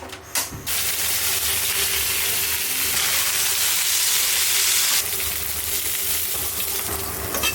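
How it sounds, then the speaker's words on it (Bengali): Pointed gourd and potato pieces fry in hilsa fish oil, a continuous loud sizzle and hiss after a brief clatter at the start, easing slightly near the end. "পটল আর আলুটা একটু ভেজে নেব"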